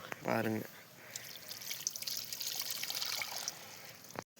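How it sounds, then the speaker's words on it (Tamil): Water pours into a pot of soil prepared for planting a water lily, a close, continuous splashing trickle lasting several seconds after a brief spoken phrase at the start. "தண்ணி ஊற்றினோம்னா இன்னும் கொஞ்சம் கீழே போயிடும்."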